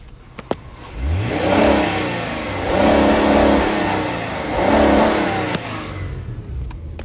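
A car engine with a Hemi, revved three times in a row, each rev swelling and fading back to idle, loud and close with no talk over it.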